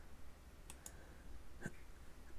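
Faint computer mouse clicks while working in structural analysis software: two quick clicks close together, then a single click a moment later, over quiet room tone.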